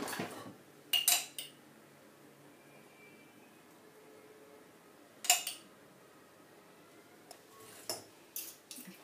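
A few separate bursts of utensils clinking and scraping through salad in a bowl, spaced out over otherwise quiet background, fairly close but not loud.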